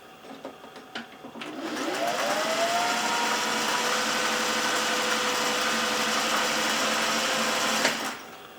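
A Singer 500A Rocketeer sewing machine runs steadily as it stitches a quarter-inch seam, its motor whirring up after a few clicks, holding an even, close hum for several seconds, then stopping with a small clunk.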